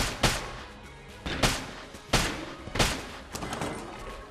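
Gunfire from a multi-hit tracking-bullet weapon in the Enter the Gungeon video game: four loud, sharp shots spaced about every 0.6 to 1.3 seconds, each followed by a brief rattling tail, with no talking.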